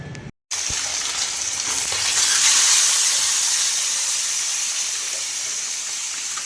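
Fish fry in hot oil in a pan with a loud, steady, close hissing sizzle that swells slightly and holds on with no voices.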